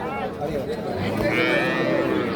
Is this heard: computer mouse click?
no